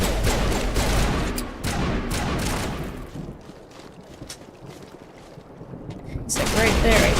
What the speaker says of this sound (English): They're shooting at something.